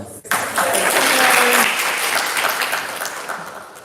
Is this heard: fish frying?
no